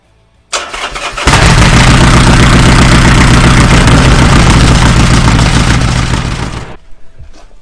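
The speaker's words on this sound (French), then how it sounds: "Donc on fait chauffer la moto." Harley-Davidson XR 1200 motorcycle engine starts up and settles into a loud, steady idle while warming, a dense rumbling drone that holds for several seconds before cutting off near the end.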